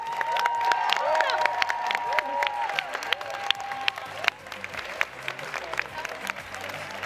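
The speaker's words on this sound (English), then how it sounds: "So big round of applause also for" Loud, sustained applause from a large crowd, steady clapping throughout with a few cheers and whistles mixed in.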